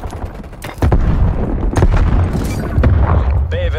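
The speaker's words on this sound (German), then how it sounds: "Werfe Granate." Grenade and gunfire in a Call of Duty Black Ops Cold War multiplayer match: heavy booms and loud bursts of shots layered over a steady battle din.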